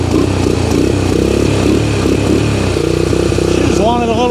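A three-wheeler's engine runs close and loud after a throttle-assisted start, with a steady idle chug that rises briefly near the end as a voice talks over it.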